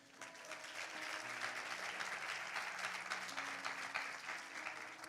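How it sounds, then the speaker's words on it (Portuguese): A church congregation claps during a sermon, producing a soft but sustained wash of many hands clapping that swells slightly and holds, with faint tonal sounds beneath it. "Dê um forte aplauso ao Senhor."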